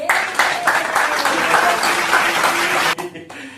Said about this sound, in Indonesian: Kita mau tepuk tangan untuk mereka berdua